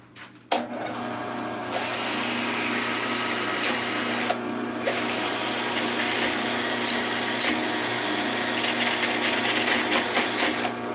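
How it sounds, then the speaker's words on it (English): Rubber turning on a lathe is sanded as it spins, giving a loud, continuous motor whine with a gritty rasp and small uneven bumps, running steadily after a sharp start with no talk. "now I'm gonna try to sand it while it's turning."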